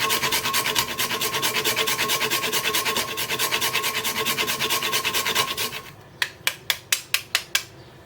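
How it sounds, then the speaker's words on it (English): Whole nutmeg scraped steadily against a grater for fresh spice in a traditional Christmas cake, a continuous close rasping rhythm for several seconds, then several sharp separate taps as it stops. "freshly grated nutmeg. I know it's in the mixed spice, but freshly grated is great."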